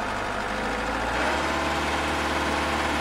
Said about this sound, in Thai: เดี๋ยวผมจะเร่งเครื่องให้ฟังนะครับ